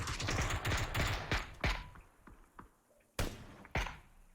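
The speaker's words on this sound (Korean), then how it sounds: "아군이 어딘가에 쏘고 있죠" Gunfire from teammates in a battle royale game: a quick burst of shots, then scattered single reports and thuds at varying distance, fading between them until two sharp, louder shots near the end.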